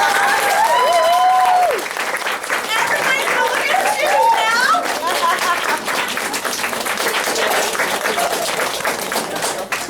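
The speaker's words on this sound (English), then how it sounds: "give one of my best girlfriends a huge round of applause" A small audience applauding at an evening skincare class, clapping that starts under a woman's speech and then carries on in an even, moderately loud patter with some chatter mixed in.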